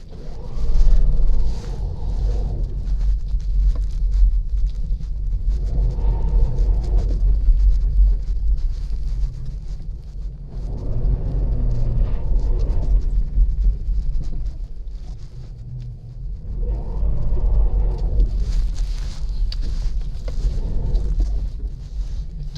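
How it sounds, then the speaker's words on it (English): A Kia e-Niro electric car spins its front wheels in Arctic snow, making repeated surges of low rumble and churning that swell and fade about every five seconds, with wind buffeting the microphone throughout. "So that is the wheel spin and traction control segment of the video."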